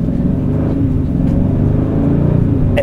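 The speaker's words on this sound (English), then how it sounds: "you can hear, you're getting a little bit more noise out of the vehicle as well" A 2024 Hyundai Sonata N-Line in sport mode drones with a steady, loud engine hum from inside the cabin, building gently as it revs, with no talk over it.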